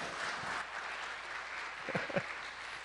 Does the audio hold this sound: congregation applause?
yes